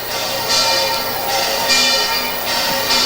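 Cathedral church bell ringing during the Peñafrancia Festival fluvial procession: bright metallic strokes repeating roughly every half second over a steady, ringing wash.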